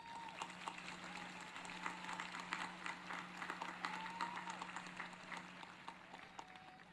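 Audience applause at a high school graduation ceremony: steady, fairly distant clapping from a crowd, sustained for several seconds over a low hum, no talking.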